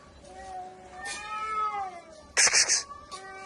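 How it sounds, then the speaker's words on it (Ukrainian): Cats yowling and caterwauling at each other, drawn-out wavering cries broken by a sudden burst of harsh hissing and spitting, fairly close. "Чуєте, коти сваряться."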